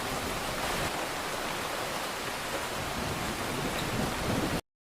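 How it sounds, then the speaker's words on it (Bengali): Heavy rain pours down in a cartoon scene, a dense, even hiss with a faint low rumble underneath, steady throughout before cutting off abruptly at the end. "এ যা দেখছি বৃষ্টি মনে হয় আর কমবে না"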